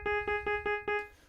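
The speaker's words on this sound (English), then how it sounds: "So imagine you take like a really default sawtooth wave." Plain default sawtooth-wave synth tone struck five times in an even, quick rhythm, each note short, buzzy and harmonically rich, with a faint noisy tail at the end and no talking.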